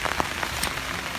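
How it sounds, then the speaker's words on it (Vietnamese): Steady rain patters on a surface outdoors, a dense, even hiss of drops with a few sharper taps standing out, close and fairly soft, with no voices. "Hôm nay trời mưa nhá."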